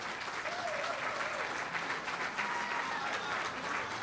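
Steady round of applause from a crowd at an MLK Jr. prayer breakfast, continuous clapping heard from some distance at moderate level, with faint voices mixed in.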